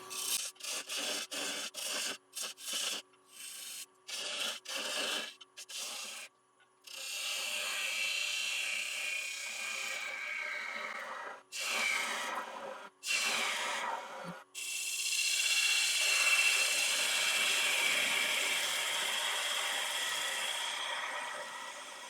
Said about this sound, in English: I'll turn away some of it here first before I take the tailstock away.